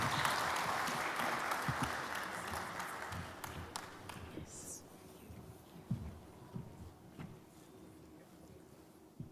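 An audience at a First Ladies summit claps at the start, the applause fading within a few seconds into quieter room noise with scattered knocks and faint movement.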